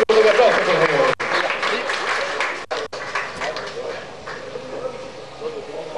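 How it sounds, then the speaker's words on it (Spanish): Crowd applause at a government signing ceremony with business leaders for the development of Puerto Busch, Bolivia, steady and dense clapping for several seconds with brief drops and a few voices mixed in. "Fuerte un aplauso, por favor."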